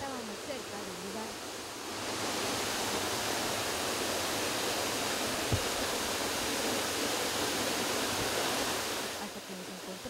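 Falling water at the Nauyaca waterfall makes a dense, continuous roar that swells louder after a couple of seconds and holds steady, with no voices.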